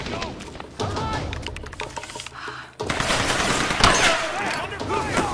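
Bursts of gunfire in the 2013 Tomb Raider video game, rapid overlapping shots and a dense volley that grows louder partway through, with shouted voices among the firing.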